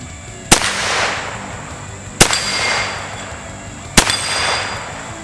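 An Extar EP9 9mm pistol fires three sharp, loud shots at roughly even intervals. Each shot is followed by a brief ringing decay.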